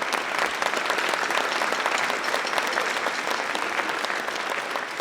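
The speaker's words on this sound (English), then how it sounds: "We'll give you a round of applause." Audience applauding at a 5th grade band concert, a dense, steady wash of clapping from a full room that holds evenly loud throughout.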